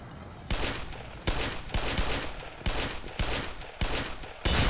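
A pistol fires in the Roblox video game as a series of about seven sharp shots spaced at uneven intervals, each with a short, bright tail, loud and close with no talk.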